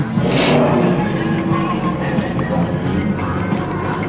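A Chevrolet Impala engine runs with a steady, loud rumble that rises and falls a little like mild revving, close to the listener, with some faint talk in the background.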